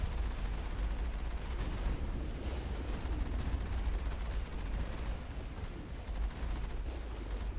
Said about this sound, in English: That is a lot of Geth stuff shooting me.